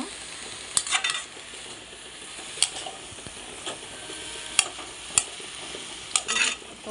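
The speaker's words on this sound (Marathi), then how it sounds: "मेथीची भाजी टाकली, त्याच्यावरून थोडीशी मुगाची डाळ टाकते, जे आपण भिजत ठेवलं होतं 10-15 मिनिटासाठी. बरोबर मिक्स करून घेतले." Fenugreek leaf bhaji with soaked moong dal is stirred in a pan, giving soft scraping strokes over a light sizzle, with a few sharper spoon taps against the metal.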